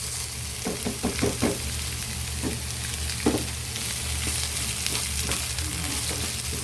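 String beans stir-fried in a pan with fish sauce make a steady sizzle for the whole stretch, broken by a few sharp clinks and scrapes of stirring. No one speaks.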